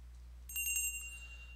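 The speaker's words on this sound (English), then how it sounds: "The bell rings as usual." The door bell of a shop jingles as someone walks in from a late-night winter street: a quick cluster of bright, high chimes that fade out into a faint, lingering ring over a low hum.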